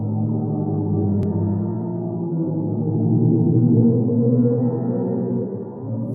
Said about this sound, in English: It's the sound of a black hole.